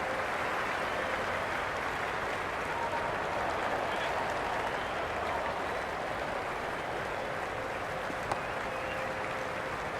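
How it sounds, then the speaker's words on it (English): Stadium crowd in the cricket video game Cricket 26 during a Brisbane Heat versus Melbourne Stars match, a steady wash of applause and cheering that holds at an even level throughout, with a faint commentary voice underneath. "There's a buzz, a real buzz coming from the stands."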